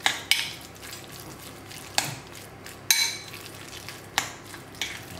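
A utensil stirs and mixes ingredients in a pan while cooking, sharp clinks against the pan repeating every second or so over a soft scraping background.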